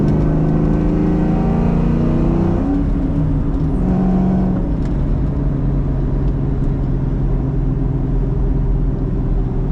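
A 1997 Ford Mustang Cobra engine hums steadily at close range, its pitch rising as it accelerates, with road and tire noise throughout.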